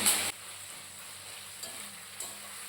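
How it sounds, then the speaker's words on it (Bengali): Chopped onions fry in hot oil until reddish for a biryani, giving a quiet, steady sizzle that opens with a brief louder hiss and has a couple of small crackling surges. "তেল গরম হয়ে গেছে এখন দিয়ে দিচ্ছি পেঁয়াজ কুচি বেরেস্তার মতো করে পেঁয়াজ কুচিগুলোকে লাল লাল করে ভেজে নেব"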